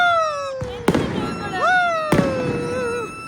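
Firecrackers go off at a New Year celebration in Georgia: two sharp, close bangs a little over a second apart, with high whistling tones rising and falling between them.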